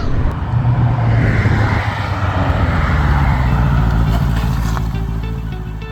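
Suzuki Bandit GSF1200 motorcycle engine while riding on a road in Wales, a loud steady low drone with rushing wind, holding constant before easing off slightly at the end.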